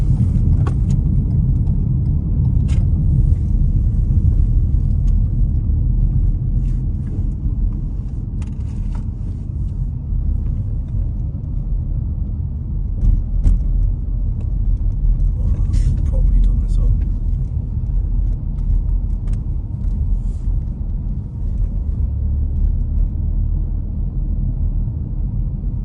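A car driving toward the Troon ferry terminal, heard from inside as a steady, loud low engine and road rumble throughout, with voices talking over it now and then.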